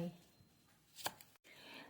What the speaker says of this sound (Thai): ผ่าครึ่งลงไปเลย